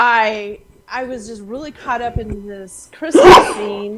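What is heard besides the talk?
sneeze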